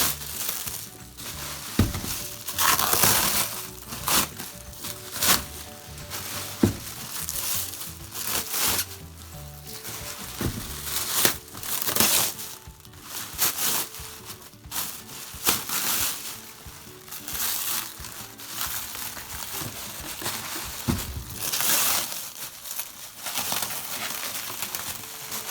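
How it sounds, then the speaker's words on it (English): Thick plastic packing is torn and crinkled off a tightly packed olee sleep tri-folding 4-inch memory foam mattress topper, giving irregular bursts of crackling and rustling that carry on steadily with short pauses. "Now we can go ahead and unwrap this and see how they package it."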